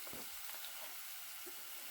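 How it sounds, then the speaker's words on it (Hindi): Garlic and ginger paste sizzles in about four tablespoons of hot oil for a tadka, a faint, steady hiss and crackle of frying close by, with no voices. "तड़का लगाएंगे हम इसका"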